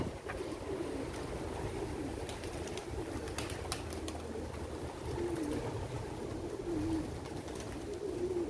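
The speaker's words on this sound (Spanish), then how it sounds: "Miren la cantidad de palomas." Pigeons coo softly and repeatedly inside an abandoned, collapsed church, low murmuring calls over a steady background hum with occasional faint clicks.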